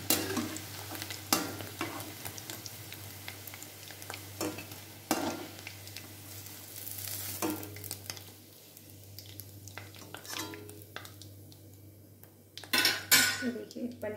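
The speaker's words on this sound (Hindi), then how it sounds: "हमने पनीर को फ्राई कर लिया है, हमारा पनीर फ्राई होकर रेडी हो गया है।" Paneer cubes cook in a pan amid kitchen clatter: frequent pot and utensil knocks, stirring scrapes and a soft sizzle, with a steady low hum underneath and a sharper burst of clanks near the end.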